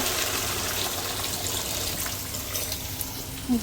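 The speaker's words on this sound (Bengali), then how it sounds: "আমি জল দিয়ে দিই" Water poured into a pan of curry while cooking, a steady close gush and splash that runs continuously under a soft background with no speech.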